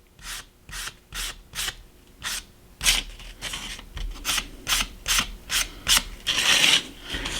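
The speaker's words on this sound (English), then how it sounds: "We're lightly sanding it." Sandpaper lightly rubs across boards on a model railroad layout in short, rhythmic strokes, about a dozen close, raspy passes that grow slightly busier toward the end, with no talking.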